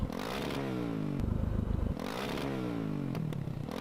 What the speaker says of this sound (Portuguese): Deixa eu acelerar pra ver se gosta de giro.